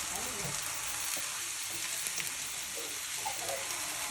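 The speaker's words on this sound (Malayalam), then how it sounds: "നമ്മളവിടെ കണ്ട ചേന ഇപ്പം ചട്ടിയിലായി." Pieces of elephant foot yam fry in a pan, giving a steady, dense sizzle with no speech over it.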